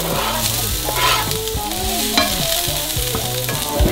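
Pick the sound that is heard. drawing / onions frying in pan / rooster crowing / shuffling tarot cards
onions frying in pan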